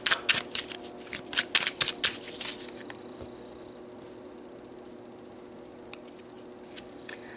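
Tarot cards being shuffled, a close burst of quick riffling flutters for about two and a half seconds, then a few faint scattered card taps, with no talk.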